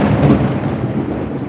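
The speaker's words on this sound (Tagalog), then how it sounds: "Lakas ng ulan." Heavy rain pours with low rumbling thunder, a loud, dense wash with deep rolling swells near the start and steady downpour throughout, no voices.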